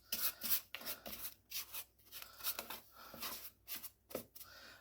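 Pumpkin muffin batter stirred with a spatula in a home kitchen, giving soft, uneven scraping and rubbing strokes in an irregular rhythm, close and fairly quiet, with no talking.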